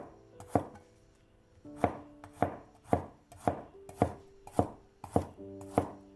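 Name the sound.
knife chopping peeled garlic into slices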